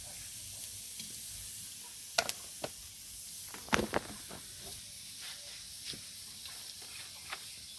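Onion and chili sizzle quietly in hot oil on a stove as the base for a grass carp fish curry, a steady soft hiss broken by a few sharp clinks and scrapes of stirring.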